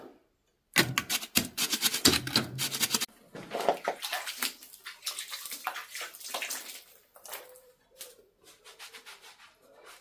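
Wire agitating wet lime mortar into the voids of a cottage wall, close scraping and scrubbing strokes in irregular bursts with short pauses between.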